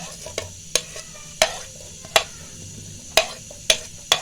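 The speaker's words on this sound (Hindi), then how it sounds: "मैंने पैन में ऑयल डाल के गर्म होने के लिए रख दिया था। अब हम इसमें अपने ऑनियंस ऐड कर देंगे" Onions fry in hot oil in a pan with a faint background sizzle, punctuated by sharp, irregular clicks of a utensil striking the pan as they are stirred.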